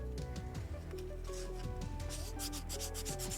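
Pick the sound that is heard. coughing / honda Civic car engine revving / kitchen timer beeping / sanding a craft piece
sanding a craft piece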